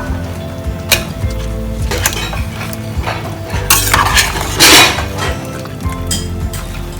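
Prepared vegetables go into a cooking pot with scattered metallic clinks, knocks and scraping stirs against the pot, close and fairly loud over a low steady background hum, with no talking.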